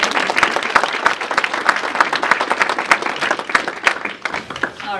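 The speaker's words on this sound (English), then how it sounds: "Maybe we should have a round of applause for them for volunteering." An audience at a business panel event for startups gives the volunteer panelists and mentors a loud, sustained round of applause, dense clapping throughout that tapers slightly near the end.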